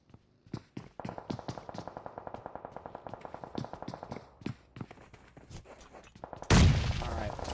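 Gunfire from the mobile battle royale game PUBG Mobile: a long run of quick, evenly spaced shots, moderately close, ending in a sudden loud burst.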